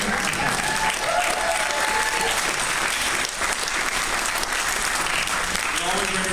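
An audience at a campus talk in Berkeley, California applauds loudly and steadily, a dense wash of clapping that carries on throughout with crowd noise mixed in.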